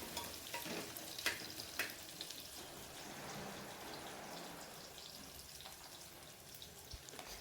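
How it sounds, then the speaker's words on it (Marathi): Onion sautéing in a pan with tomato, green chili and peas for a Nilanga-style spiced rice, giving a steady close crackling sizzle with occasional stirring scrapes throughout, no voices. "कांदा जोपर्यंत मऊ होत नाही तोपर्यंत चांगलं परतत राहायचं आहे."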